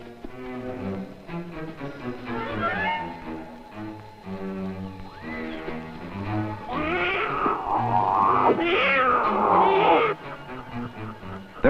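Wild kittens mew repeatedly in high, wavering cries, several voices overlapping and rising in intensity, close and fairly loud over a faint outdoor background.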